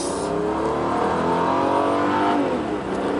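A Toyota Aristo's 3-litre naturally aspirated engine revving as the accelerator is pressed, a close, loud rising engine note that climbs in pitch, holds, then eases off near the end.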